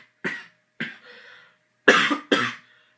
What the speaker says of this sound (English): Knew I was gonna cough.